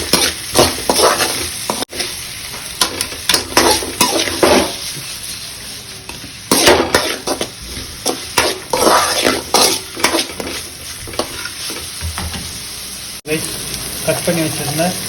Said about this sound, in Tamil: சாம்பார் வெங்காயம் நல்லா ஷாலோ ஃப்ரை ஆகணும், அதெல்லாம் நல்லா வதக்கி கொடுத்துடலாம்.